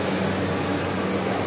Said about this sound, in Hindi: ये मेट्रो हमारे सामने ही आ रही है, अरे आ गई